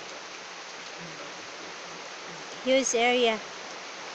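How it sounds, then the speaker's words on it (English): Steady rain falls in a garden setting, an even, dense hiss holding throughout, with a brief burst of speech near the end. "Wow, fantastic rain."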